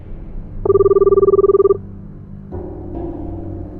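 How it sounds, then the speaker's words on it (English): A phone vibrates on a car's passenger seat, a loud, close buzzing pulse lasting about a second, followed by a quieter hum in the car. "My phone vibrates on the passenger set."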